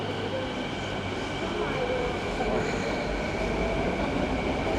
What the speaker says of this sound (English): Crowded Skytrain platform here.